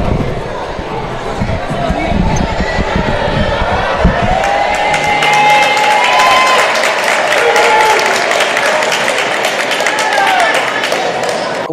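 Steady crowd applause with some cheering fills a school gym on senior night, loud and sustained throughout with a few sharper claps rising above the general roar.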